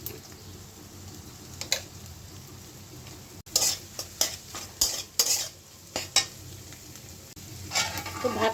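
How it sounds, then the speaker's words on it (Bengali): Egg stirred into lightly fried onions in a pan, with a spoon scraping and clinking in bursts over a soft, continuous sizzle, near and fairly quiet. "ডিমটা দিয়ে ছেড়ে মিশিয়ে নিব।"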